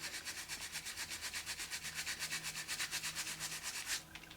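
Sandpaper rubbed by hand over a rubber bicycle inner tube, a steady back-and-forth scratching rhythm of about eight strokes per second, close and fairly quiet, stopping abruptly near the end.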